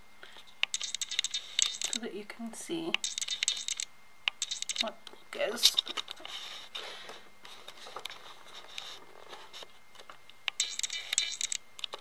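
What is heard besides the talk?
camera lens clicking while zooming in and out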